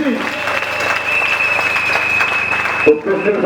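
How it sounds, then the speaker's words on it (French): A church congregation at a Sunday worship service applauds and cheers loudly and steadily for about three seconds, a sustained crowd roar that ends abruptly as a voice and music take over. "Acclame plus fort pour Jésus."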